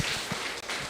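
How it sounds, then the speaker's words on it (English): Crowd at an Astronomy on Tap science talk in a San Antonio bar breaks into a round of applause, a dense burst of clapping that stays fairly steady throughout the brief moment. "I think that deserves a round of applause."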